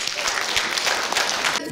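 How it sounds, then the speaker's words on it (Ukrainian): An audience in a hall applauds at a jubilee exhibition, dense loud clapping filling the room continuously before cutting off abruptly. "Оплески, оплески."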